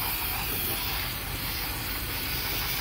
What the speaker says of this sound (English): hit it with some hefty spray brake clean